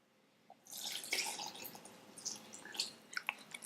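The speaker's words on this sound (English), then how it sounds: "And then pour in the milk" Milk poured into chocolate cupcake batter, a continuous close liquid splashing and trickling stream with small droplet splats, steady for a few seconds before tapering.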